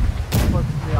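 A cannon on a pirate ship in the game Blackwake fires one heavy, booming shot midway through, its rumble lingering under someone talking over steady background battle noise.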